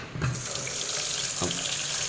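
Water gushes steadily from a tap into a sink, a loud continuous rushing splash starting abruptly and holding without pause.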